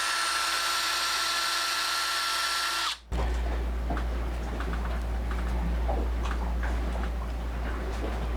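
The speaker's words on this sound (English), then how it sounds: "So I'm destroying a drill bit." A power drill grinds through and destroys a drill bit, starting abruptly after a brief high whine and running loud and steady with ticking, rattling texture.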